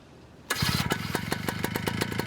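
A small pump engine fires up after its start button is pressed, catching abruptly and settling into a rapid, uneven chugging idle, close and fairly loud.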